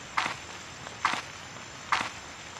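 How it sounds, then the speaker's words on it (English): Three evenly spaced footsteps crunching on gravel in the horror video game Haunted Memories, each a short sharp scuff, fairly close and alone with nothing else heard. "That is an awful footstep sound effect. It sounds like we're walking on gravel."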